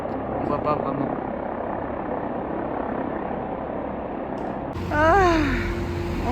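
A helicopter flies over a dusty mountain hiking trail with a steady rotor drone throughout. Near the end it swells louder with a rising engine whine as it comes closer.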